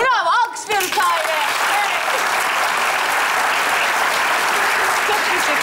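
Audience applause for Tahir on a Turkish children's comedy show, a dense, steady wash of clapping lasting several seconds after a brief burst of voices at the start.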